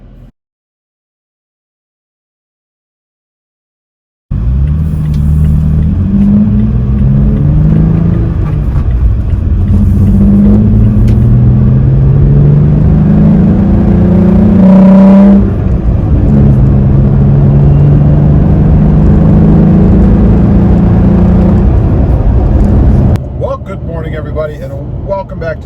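A Toyota Tacoma truck on the move, heard from inside the cab as a steady engine drone and road rumble whose pitch rises and falls with speed. It starts after a few seconds of silence and runs on without a break.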